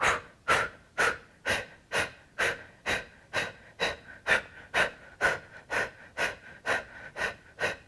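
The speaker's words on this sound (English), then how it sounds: "So take a big breath in and" Rapid, forceful yoga breathing during a mindfulness practice: about sixteen sharp, evenly spaced puffs of breath in eight seconds, close and fairly loud, with no talking.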